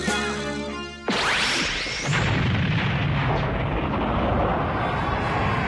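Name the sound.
fireworks exploding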